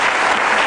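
A studio audience at an Indonesian televised political talk show breaks into loud, dense applause, a brief burst of steady clapping with no speech over it.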